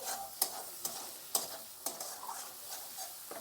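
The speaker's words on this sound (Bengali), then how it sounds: "তো এখন ভালো করে কষিয়ে নেব মশলাটা" A spice paste sautés in oil for a Bengal-style ginger black catfish curry, a soft sizzle broken by regular scraping strokes of a spatula roughly every half second, faint and close.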